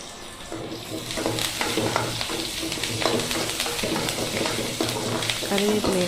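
Onions and tomato with curry leaves fry in a pan for a chicken kuzhambu, giving a steady, fairly loud sizzle broken by the scrape and clack of a spoon stirring.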